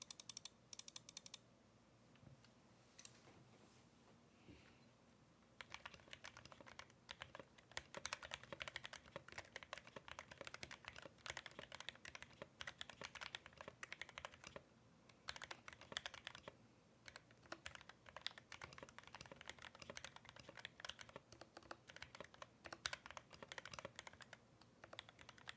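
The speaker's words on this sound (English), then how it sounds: "there's our typing test here, and we'll do a little typing test for you" Rapid typing on an NK87 aluminum-cased mechanical keyboard, a dense run of close, crisp keystroke clicks with brief pauses, heard alone without talk.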